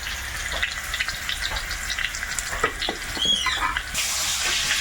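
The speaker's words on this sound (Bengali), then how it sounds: "প্রথমে আলু কটা দিলাম একটু ভাজা ভাজা হলে এর মধ্যে কুমড়োটা দিয়ে একেবারে ভাজবে" Potatoes and pumpkin fry in a pan with oil, giving a steady sizzle broken by occasional stirring scrapes, and the hiss swells louder toward the end.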